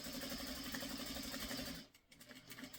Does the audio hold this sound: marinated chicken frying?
no